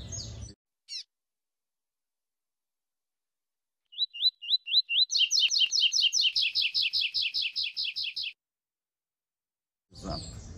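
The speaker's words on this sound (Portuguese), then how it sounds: "falar de canto clássico e falar também de coleiro de fibra" A coleiro, a small Sporophila seed finch, sings a classic-style song: a run of sharp rising chirps that builds into a fast, loud, repeated trill, heard close up and alone after a stretch of silence.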